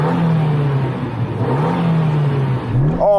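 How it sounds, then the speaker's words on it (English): A small Suzuki Jimny engine revs up and down in repeated swells, a steady loud droning whir close by, ending with a sharper rising burst of revs. "So I'm going to rev up my little Jimny."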